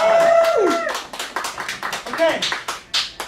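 A small audience claps for the performer Peter Dizozza. A voice speaks briefly at the start, then scattered, distinct claps follow, close and fairly loud.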